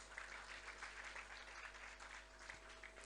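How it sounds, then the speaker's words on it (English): Audience applause at an inaugural function, a steady, even patter of many hands clapping throughout, fairly faint and with no voices over it. "Amidst a huge round of applause, please."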